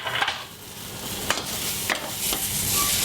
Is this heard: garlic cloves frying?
yes